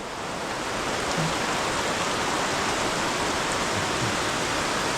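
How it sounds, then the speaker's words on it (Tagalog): Heavy rain pouring steadily on a farm as a typhoon approaches, a dense, even roar with no wind and no voices. "Yung lakas lang yung ulan."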